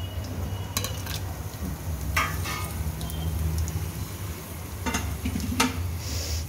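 Whole spices, including cardamom, cinnamon and torn bay leaf, sizzle steadily in a hot pan for khushka rice, with scattered sharp clicks and clatters of stirring over a continuous frying hiss.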